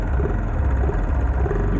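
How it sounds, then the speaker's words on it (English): A trail motorcycle's exhaust drones steadily and close as the bike rides along a trail near homes, a continuous low engine rumble with no talk. "I'm very aware of the exhaust noise as we pass by"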